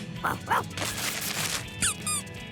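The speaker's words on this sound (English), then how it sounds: "It's a squeaky toy." A rubber squeaky toy given as a birthday present to a cartoon dog is squeezed several times, giving short high squeaks in uneven bursts, with a dog's yips and a steady background of cartoon sound.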